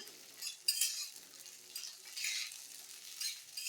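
Green and dried chillies frying in a pan for amla chutney, with a light crackling sizzle and occasional soft clinks of a spoon stirring.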